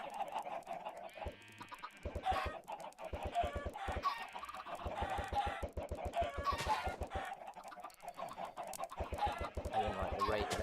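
Chickens clucking in Minecraft: a steady run of rapid, rhythmic clucks that repeat in bursts and layer over one another, fairly loud and close, with a faint bit of talk underneath.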